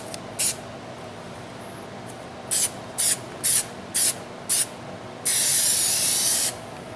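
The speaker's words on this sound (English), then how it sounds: "Generous coat of glue." Spray glue from an aerosol can hisses onto a John Deere post cover in several short bursts, then one longer continuous spray, close up over a faint steady background hum.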